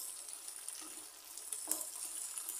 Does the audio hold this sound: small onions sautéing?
yes